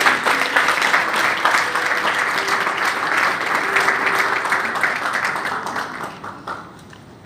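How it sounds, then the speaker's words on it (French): An audience of women at an evening gathering breaks into sustained applause. The dense, even clapping holds steady, then thins out and fades over the final second or two. "Est-ce que vous ne pouvez pas m'applaudir un tout petit peu?"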